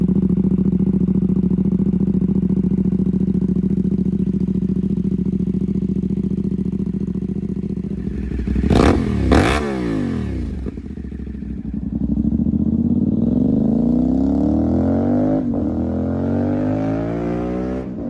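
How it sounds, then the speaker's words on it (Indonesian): A CF Moto SR450 with a 450cc engine idles with a steady deep rumble, then is revved sharply twice, settles, and climbs through a longer rising rev before dropping back to idle. "itu karena kalian belum dengerin suara mesin dari motor ini."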